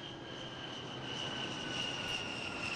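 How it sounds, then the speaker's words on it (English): A-10 jet flyby as a sound effect, a steady roaring engine wash with a high whine that swells slightly over a few seconds and stays fairly loud throughout. "Like an A-10 jet flyby."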